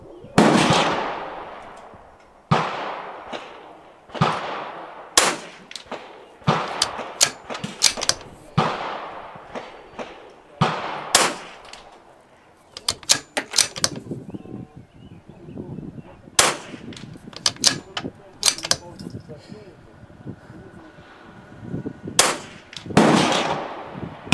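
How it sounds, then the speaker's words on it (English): Vudoo Three 60 rifle shots at an outdoor range for PRS-style shooting, a steady series of sharp, loud cracks spaced a second or two apart, with faint bolt and handling clicks between them and gusty wind in the background. "my rifle still feeds into the chamber, which is crucial for PRS style shooting"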